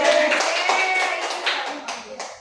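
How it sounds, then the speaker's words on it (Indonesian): A short burst of clapping from a small group in a classroom, brisk and close, fading slightly toward the end. "tepuk tangan buat Aji."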